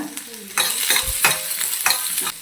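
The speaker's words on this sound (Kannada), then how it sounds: "ಒಂದು ಸ್ಪೂನ್ ಆಯಿಲ್ ಹಾಕ್ಕೊಂಡು ಅದಕ್ಕೆ ಈರುಳ್ಳಿ ಹಾಕ್ಕೊಂಡು ಈರುಳ್ಳಿನ ಫ್ರೈ ಮಾಡ್ಕೊಳ್ತಿದ್ದೀನಿ" Onions fry in a spoonful of oil with turmeric for a Mandya-style chicken gravy, sizzling steadily while a spoon scrapes and stirs the pan in several sharp, close strokes.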